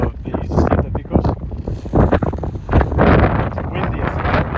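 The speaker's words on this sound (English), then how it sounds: "It's windy as hell, as you can see." Strong gusts of wind buffet the microphone on a mountain peak in the Siete Picos, roaring and rumbling loudly throughout with a voice partly audible underneath.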